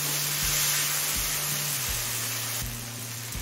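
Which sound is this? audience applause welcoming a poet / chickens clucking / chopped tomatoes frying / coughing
chopped tomatoes frying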